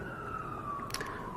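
Far-off emergency siren on a New York street, a thin sustained tone hanging over a low city rumble, faint and unbroken for the short moment.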